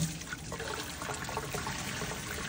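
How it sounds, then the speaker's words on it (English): Water draining out through small holes cut in a swamp bucket, a continuous faint trickling and splashing flow without pause. "Just pour it in the sink."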